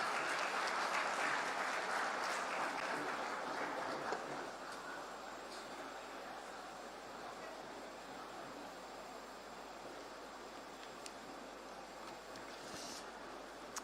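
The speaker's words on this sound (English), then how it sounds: "Everybody, with a huge round of applause," Crowd applause greeting the ambassador at an inauguration event with the Chief Minister in Rajpura, a broad steady clapping that is loudest at the start and eases slightly but continues throughout.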